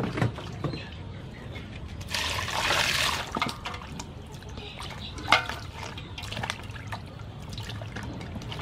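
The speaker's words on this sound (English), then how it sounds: "Add some water." Water splashes and trickles into a container for a few seconds, with scattered drips and small clinks around it.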